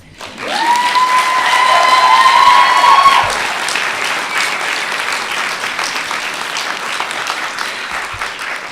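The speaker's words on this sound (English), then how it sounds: "Can you guys clap for your families?" A crowd at a nursing class pinning ceremony claps and cheers for their families, loud sustained applause with a high whistle or cheer over the first few seconds, then a slightly softer, steady patter to the end.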